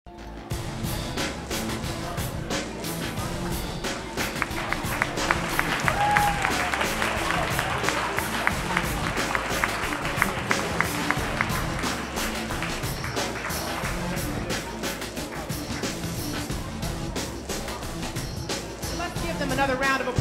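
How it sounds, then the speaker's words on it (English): An audience gives a project group a long, sustained round of applause, with dense clapping that stays at an even level for about twenty seconds and faint voices mixed in. "Another round of applause, again, on their hard work and this project"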